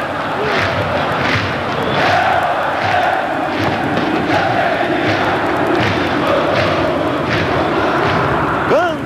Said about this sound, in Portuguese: Olha a torcida rubro-negra aí.